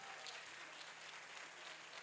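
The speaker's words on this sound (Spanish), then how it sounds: "Un aplauso para todos los que están aquí." Faint, steady applause from a crowd at a congress, a dense wash of clapping that holds evenly throughout.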